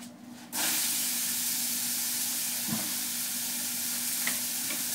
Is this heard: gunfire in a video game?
no